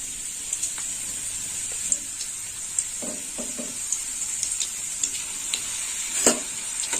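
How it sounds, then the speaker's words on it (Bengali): Papad frying in a good amount of hot oil, a bright, steady sizzle carried throughout with brief crackling bursts and a few stirring scrapes, close and fairly loud, with no talking. "তেল গরম হয়ে গেছে এবার আমি পাঁপড়গুলো ভেজে নেব এই দেখুন বন্ধুরা দিয়ে দিলাম পাঁপড়"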